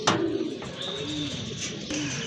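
Pigeons coo softly in a short, close burst, with low throaty calls repeating among a collection of pet pigeons.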